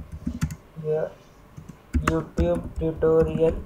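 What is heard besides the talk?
typing on a computer keyboard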